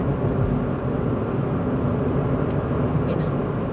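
Vehicles on a clear open road give a loud, steady broadband roar of tires and engines, heard from inside a moving car with no distinct passes standing out.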